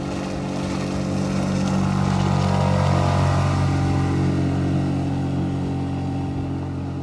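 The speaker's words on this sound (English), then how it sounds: "That's a 6 horsepower 4-stroke engine" A small 6 horsepower four-stroke outboard motor runs steadily on a boat, a loud close buzzing drone with a faint rising pitch as it works.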